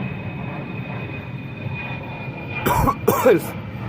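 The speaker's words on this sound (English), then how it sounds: "As you guys can hear or see, the aeroplane, the airport, there's the big old airplane." A steady jet engine roar from an airplane taking off at a nearby airport hums in the background while a person coughs and clears their throat a few times.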